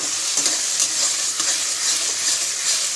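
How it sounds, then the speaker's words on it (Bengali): Spice masala with tomato frying in oil for egg tarka, a loud steady sizzle with repeated scraping of a spoon stirring the pan. "টমেটোটা গলে এসেছে, ভালো করে মশলাটা ভাজা ভাজা হয়ে গেছে"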